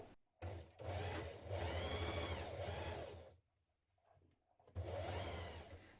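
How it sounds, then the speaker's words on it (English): Sewing machine stitching coat lining pieces at the shoulders and side seams, a close, steady motor hum with rapid needle chatter running in two long bursts separated by a short pause, no voices. "Now stitch your front pieces of lining to your back lining piece"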